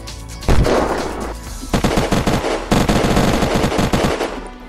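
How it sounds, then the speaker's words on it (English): Rapid bursts of automatic gunfire from players shooting in the video game Unturned, loud and close, repeating in staccato volleys with brief pauses between them. "got some guys shooting from the top of there"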